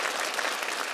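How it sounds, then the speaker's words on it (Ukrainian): Steady studio audience applause on a Ukrainian comedy show, a dense wash of clapping that holds at an even, loud level throughout with no voices on top. "Анют, весь зал тобі аплодує."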